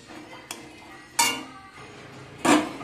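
A metal spatula cuts through boiled kohlrabi and potato in a cooking pan, making three distinct clinking scrapes at separated intervals, the last two louder and longer, with quiet background between.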